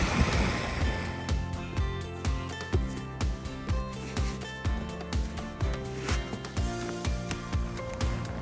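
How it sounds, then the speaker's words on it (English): Someone wades through a cold mountain river, and the water sloshes and splashes in a steady rhythm of pulses close by. Wind noise and rushing water fill the background. "Like walking through cold water and having plenty of it."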